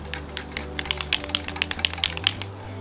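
A can of Rust-Oleum Universal Advanced Formula hammered spray paint shaken by hand outdoors on a front patio, giving a quick, steady run of about a dozen close rattling clicks over a low background hum.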